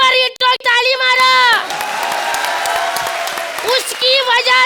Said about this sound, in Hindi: तो ताली मारा